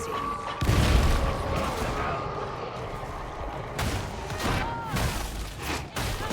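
Video game plasma shots and explosions fill the mix with dense booms and rapid blasts, a heavy thump early on and further bursts later, with faint voices underneath.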